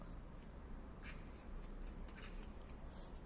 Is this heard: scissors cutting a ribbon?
yes